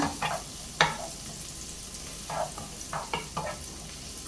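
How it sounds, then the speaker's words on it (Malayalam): Garlic being stirred and sautéed in butter in a pan, a soft sizzle under intermittent scraping strokes of a spoon, close and fairly quiet. "നമുക്കൊന്ന് ഇളക്കി വെളുത്തുള്ളിയുടെ പച്ചമണം ഒന്ന് പോകുന്നവരെ ഒന്ന് ഇളക്കി വഴറ്റി കൊടുക്കാം"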